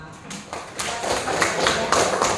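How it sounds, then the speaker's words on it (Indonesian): A classroom of children claps their hands in applause, a loose series of quick claps over the room's background noise. "Tepuk tangan dulu untuk anak-anak semua."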